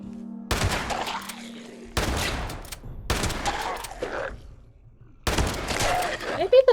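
Shotgun blasts in Fallout 76 gameplay, three or four loud, close bursts spaced about a second apart, each with a sharp attack and short decay, with game noise between them.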